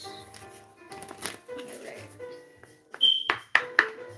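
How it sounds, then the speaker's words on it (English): A deck of tarot cards is shuffled close by in a few quick riffling bursts, with sharp snaps and flutters toward the end. A voice talks quietly in the background. "2 more shuffles."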